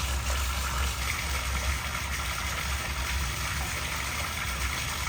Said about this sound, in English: let's run outside and see the water flow under the boat